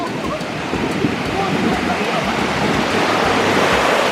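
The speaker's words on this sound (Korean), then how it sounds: "파도가 나를 삼킬 것 같아요." Steady roar of ocean surf at a sandy beach in Busan, waves crashing continuously, loud and close, with a rushing wash over the whole stretch.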